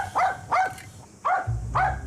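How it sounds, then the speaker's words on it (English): A dog barks on a house-building site in New Zealand, giving four sharp, close barks in an uneven rhythm, with a low machine rumble starting partway through and no talking. "Alongside Grant today is his loyal dog, Buddy."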